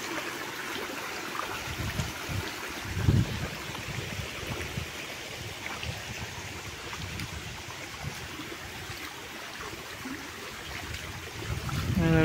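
Knee-deep floodwater swirls and splashes through a sugarcane farm field after three hours of heavy overnight rain, with steady rushing water and occasional louder sloshing nearby.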